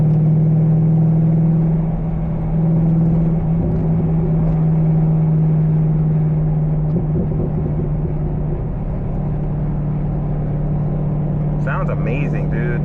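A repaired Corvette's engine drones steadily and loudly while driving, a deep continuous rumble that holds throughout with slight swells, and voices come in over it.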